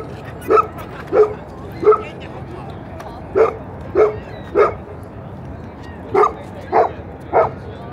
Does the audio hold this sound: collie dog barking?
yes